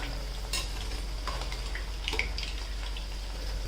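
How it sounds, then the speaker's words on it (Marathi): Potato-semolina medu vada sizzling in hot oil, a steady frying hiss with a few brief clinks and scrapes as the pieces are turned, close and continuous. "दोन्ही साईडून आपण त्यांना तळून घेणार आहोत"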